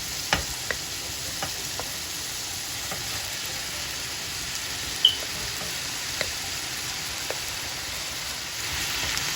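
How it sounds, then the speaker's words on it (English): Ground turkey sizzles in a pan with garlic, onion and peppers, making a soft, steady frying crackle broken by a few faint clicks of stirring. "Next, I'm going to add the ground turkey."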